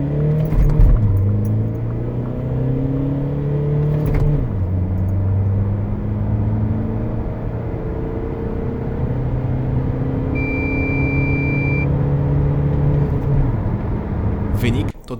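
A Ford Tourneo Custom Active van with the 2.0 EcoBlue 185 diesel accelerates from 0 to 100 km/h. The engine drones steadily, its pitch climbing and dropping back at each gear change, with a brief beep partway through.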